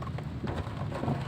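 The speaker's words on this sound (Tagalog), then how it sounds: "Kasi napakalakas yung ulan." Heavy rain during a storm in the city, a dense steady rush of downpour with low rumbling wind noise, continuous and fairly loud throughout the short stretch without talk.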